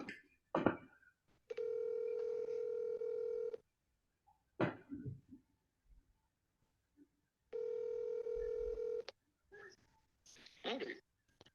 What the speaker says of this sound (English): I'm gonna FaceTime you.